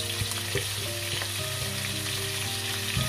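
Garlic and onion frying in oil in a pan for a cod and tomato dish, giving a continuous, fairly loud crackling sizzle with a few faint clinks.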